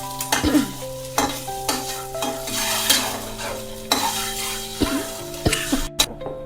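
A pan fries food for egg biryani with a steady sizzle, punctuated by repeated sharp scrapes and clanks of a spatula against the metal, close up with a background tone.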